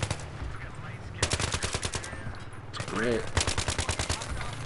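Rapid automatic gunfire from the video game Battlefield 3 rattles in loud bursts, with a brief spoken comment between volleys.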